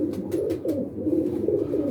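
Close pigeons give low throaty coos, overlapping in continuous waves over a brief span, with no voices.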